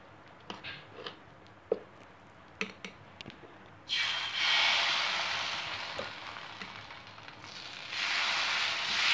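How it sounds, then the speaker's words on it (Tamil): Dosa batter without oil hits a hot washed griddle and breaks into a loud rushing sizzle halfway through, after a few light clinks and taps, then the hiss fades and swells again, close up with no talking. "மாவு ஊற்றிடலாம்."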